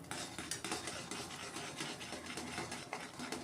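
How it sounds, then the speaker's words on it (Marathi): Gram flour (besan) being stirred into boiling water in a pot: steady, close scraping and rubbing strokes of a spoon against the pot in a repeating rhythm, with the bubbling underneath and no voices. "थोडं करत बेसन घालायचं आहे आणि हलवायचं आहे असं।"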